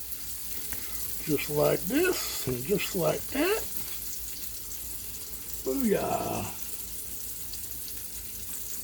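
Zucchini fries in oil in a pan with a constant close hiss beneath a voice, which speaks in short bursts.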